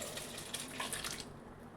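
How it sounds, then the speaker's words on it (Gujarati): A steady rushing pour of pasta and water into a colander set over a pot, splashing for about a second before tapering off. "હવે તેમાં આપણે પાસ્તાને નાખી દઈએ,"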